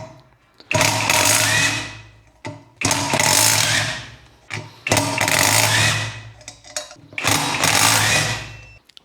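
An air-powered socket wrench with a 17 mm socket removing the rear sprocket nuts on a motorcycle: four loud, close bursts of buzzing mechanical rattle, each lasting about one to two seconds, separated by short pauses.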